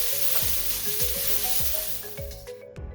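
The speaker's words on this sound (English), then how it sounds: "Add more oil to the wok to prevent sticking, then add the noodles." Pad Thai noodles fry in oil in a wok, a loud continuous sizzle with rhythmic scraping tosses of a spatula, ending in a few clinks as the cooking briefly quiets.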